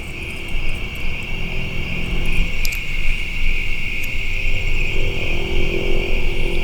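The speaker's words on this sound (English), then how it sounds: "I'm hearing some birds, different bugs coming from over there in the woods." A steady high insect chirr fills the night air in woods beside a cemetery, with a low distant rumble underneath and a few faint scattered bird chirps; no voices.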